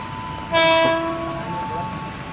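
A train sounds its horn at Telaga Murni railway station: a loud, close, sustained multi-tone blast that starts abruptly and fades over a second, followed by steady rolling rail rumble.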